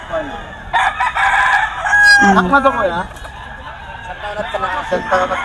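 A young bullstag rooster, about 18 months old, crows at a poultry market, its harmonic call rising and breaking over several seconds amid other birds and a busy crowd, with people talking nearby.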